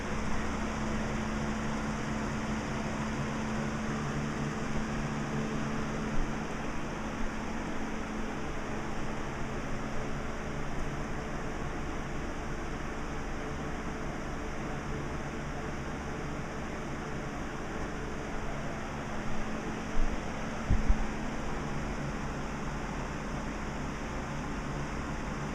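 A Lasko Wind Machine floor fan runs steadily, giving a constant broadband whoosh of moving air with a faint motor hum and no voices.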